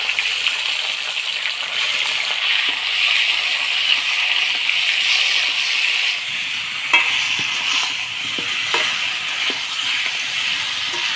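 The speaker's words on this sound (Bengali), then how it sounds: "এবার এই মাংসটা হালকা ভাজে নিব।" Chicken meat lightly frying in a pan, a steady broad sizzle running throughout with occasional soft clicks of stirring, close and fairly quiet, no talking.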